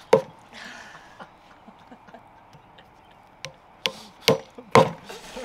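Several sharp, irregular hammer knocks drive mushroom spawn plugs into a log, sparse at first and then coming in a quicker cluster toward the end, with faint low voices between.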